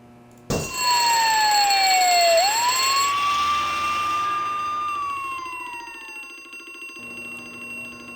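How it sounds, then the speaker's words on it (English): Fire alarm going off in the horror game Harvester: a loud electronic tone that starts abruptly, sweeps and wavers in pitch with siren-like bends, then holds steady and slowly fades, with no voices over it. "Pull the fire alarm."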